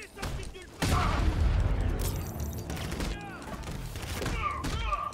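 Explosion in Batman: Arkham Knight: a sudden loud boom followed by a rumbling blast and gunfire-like crackles, with someone talking over the game sounds.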